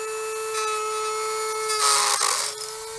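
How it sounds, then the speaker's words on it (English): A high-RPM rotary tool with a small cutting disc whines steadily and close, then grinds louder against a screw while cutting a slot during composite deck work, easing off near the end, with no talking. "I finally ground a slot in it right there so that a slotted screwdriver will fit"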